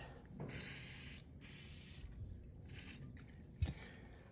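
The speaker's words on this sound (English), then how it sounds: "spray a little WD-40 on it, on this" Several short hissing bursts from a WD-40 aerosol spray can onto a GDI injector seal tool, separated by pauses, followed by a faint clunk near the end.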